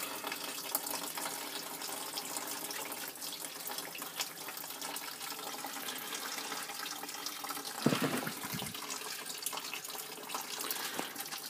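Sparge water trickles steadily from a sparger during the brewing of a SMASH beer, a continuous, soft, close stream with a brief splashy surge partway through.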